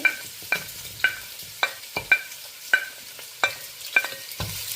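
Chopped onion and green chillies fry in oil in a pan while being stirred for a prawn biryani, giving a soft sizzle punctuated by repeated sharp scraping clicks of a spoon against the pan at roughly half-second intervals.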